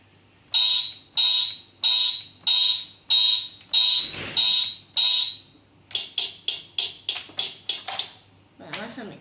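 Sharp electronic beeps from Blocker in the Sprunki Phase 6 game come in a steady run of about eight evenly spaced bursts, then a quicker, choppier series, with a brief voice between them.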